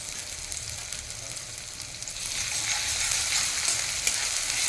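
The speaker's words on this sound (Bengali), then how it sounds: "আদা রসুনের পেস্টটা একটু ভেজে দেবো" Hand-crushed ginger garlic paste fries in hot oil in a pan over softened onions, a steady close sizzle that grows louder and denser midway and holds there.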